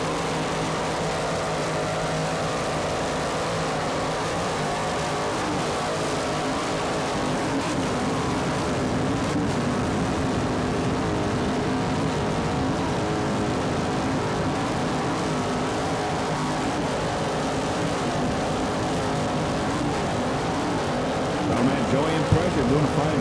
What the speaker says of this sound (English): Just listen to those two 900 horsepower inboards.